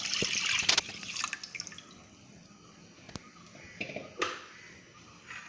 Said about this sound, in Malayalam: ഇതിലോട്ട് നമുക്ക് അളന്ന് വെച്ചിരിക്കുന്ന മൂന്ന് കപ്പ് വെള്ളം ഒഴിച്ച് കൊടുക്കാം